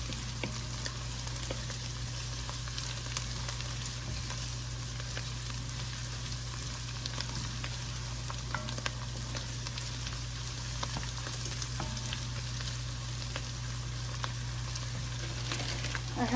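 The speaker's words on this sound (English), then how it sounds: "the garlic is in. Gonna stir that around and let it get fragrant." Garlic frying in a pan while being stirred, a steady low sizzle with faint scraping running evenly throughout, with no voices.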